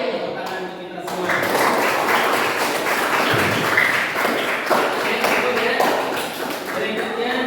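A classroom of students claps together in a sustained burst of applause, steady and fairly loud throughout, with scattered taps and thuds mixed into the clapping.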